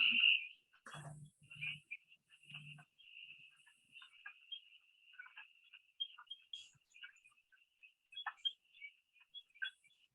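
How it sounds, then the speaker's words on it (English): Small spring frogs in the Vermont woods call in repeated high, thin chirps and trills, with a steady background chorus and scattered nearer calls. A few low thumps and brief noises occur early on. "these little frogs come out and they sound"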